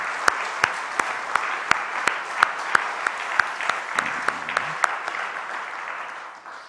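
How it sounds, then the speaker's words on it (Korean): A church congregation at an early-morning prayer service claps for a men's choir. Sharp, evenly spaced rhythmic claps ring out over a softer bed of scattered applause, with a faint murmur of voices midway. "다시 한번 우리 큰 박수를 한번 드리겠습니다"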